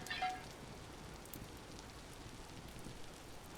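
Steady rain falling in the Vintage Story video game, a soft continuous hiss with a few brief high ticks at the start, moderately faint and alone with no voices.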